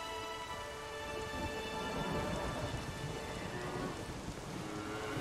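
Heavy rain pours steadily through a video game thunderstorm at sea, with low rolling thunder rumbling beneath the downpour throughout, loud and continuous with no talking.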